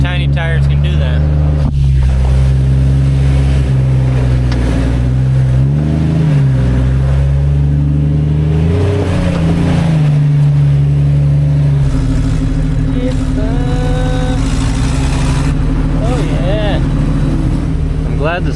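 An off-road vehicle on 33-inch tires grinds up a rock, its engine droning loudly and close with rising and falling revs as it climbs, while people talk intermittently.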